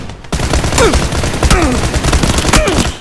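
Thompson submachine gun firing in PUBG: New State on mobile, a dense stream of loud, rapid automatic bursts with shell-like pings, continuous for about three seconds.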